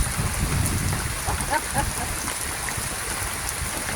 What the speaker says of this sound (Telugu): ఎంత మంచి మధురమైన వర్షం పడుతుందో, ఎంత హాయిగా పడుతుందో.